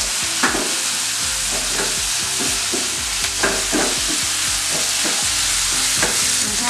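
Tomatoes and corn stirred in a hot pan for a corn omelette, a steady close sizzle of frying broken by repeated scraping strokes of a utensil against the pan, with no talking.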